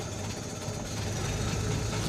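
A vintage Rolls-Royce 20/25 engine settles into a steady idle just after being started from cold with the hand choke, after weeks of standing, a continuous low rumble with a slight uneven knock, close and fairly loud.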